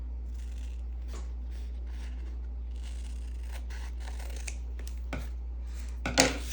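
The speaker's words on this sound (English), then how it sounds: "So let's just cut this part off." Scissors snip through craft material in a quiet room, a series of soft, scattered cuts over a steady low hum, ending in a brief louder rustle.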